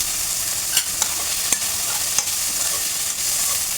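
Capsicum, tomato and carrot sizzle as they are stirred in a hot pan, a steady frying hiss broken by several sharp spatula scrapes and clinks against the pan, close and alone with no talk.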